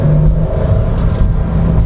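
A 2025 Porsche 911 GTS T-Hybrid, 992.2 generation, accelerates with a loud, close, steady low engine drone and rumble heard alone for a couple of seconds.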